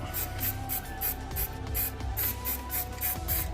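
Aerosol spray paint can hissing in a rapid series of short bursts while green paint is applied to a model building's ground, close and steady with slight rubbing between bursts.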